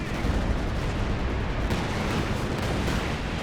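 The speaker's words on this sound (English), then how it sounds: "Oh, we have some type of barrage coming in." An artillery barrage in the video game Company of Heroes 2 rumbles as a dense, continuous wall of booming impacts and explosions, loud and unbroken across the whole stretch.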